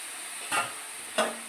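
Powdered milk being stirred into prawn pulao in a pan, heard as two brief, soft scraping strokes about half a second apart over a quiet background hiss.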